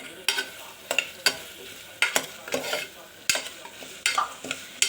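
Onion and tomato sautéing in a pan for rice and lentil dish, with a steady sizzle and repeated sharp scraping strokes of a spoon stirring, close and clear, no talking.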